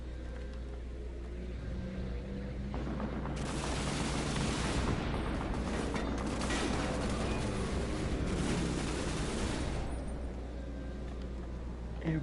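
Dense, roaring machine gun fire in the video game Assassin's Creed Unity, a continuous loud wash of overlapping shots and blasts that swells in the middle and holds throughout.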